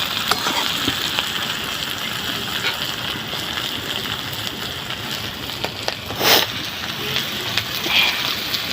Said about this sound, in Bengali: আর ঢাকা দেবো না, এখন আর একটু ভাজবো